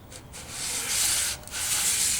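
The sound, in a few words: hand sanding wooden guitar headstock scarf joint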